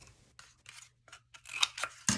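Scissors snip through a cardboard toilet paper tube in a series of close, crisp cuts, with short pauses between them and a heavier crunching cut at the end; no one speaks.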